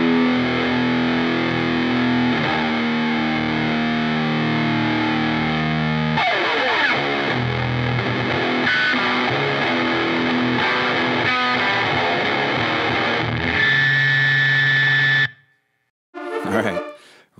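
A heavily distorted, buzzy electric guitar through a distortion pedal sustains chords and notes for a long stretch, then cuts off, followed by a brief burst of a different distorted tone.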